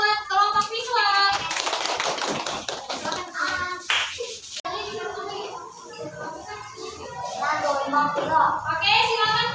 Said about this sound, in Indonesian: Berikan aplaus buat kelompok visual.